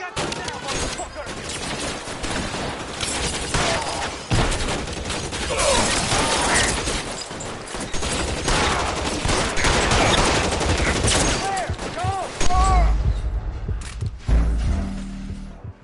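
Gunfire in the video game L.A. Noire, a loud barrage of rapid shots and volleys running for about sixteen seconds with mechanical clicks and shouting voices mixed in, easing off briefly near the end.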